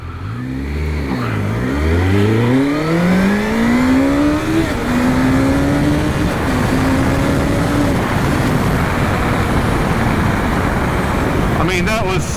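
A 1998 Honda CBR1100XX Super Blackbird motorcycle accelerates hard, its engine climbing through rising revs with audible gear changes before settling into a loud sustained roar mixed with strong wind rush.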